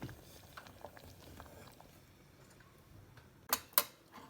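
A pot of carrot moolakootal simmers quietly with soft bubbling and faint ticks, followed near the end by two sharp, louder pops.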